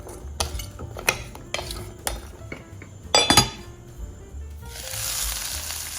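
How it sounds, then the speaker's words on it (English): A spatula stirs pumpkin pieces in olive oil in a pan, making sharp scraping clinks and knocks in an irregular rhythm, a louder clatter near the middle, then a soft hissing sizzle toward the end. "put olive oil and pumpkin in a pan and stir with a spatula."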